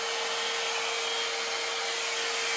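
A Head Kandy Commitment Issues blow dry brush runs steadily and loudly, giving a constant airy roar with a fixed motor whine and no pauses.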